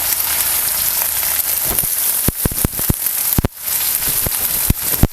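Finely chopped onion tipped into hot oil already popping with cumin and mustard seeds, giving a steady loud sizzle broken by sharp crackles and spits.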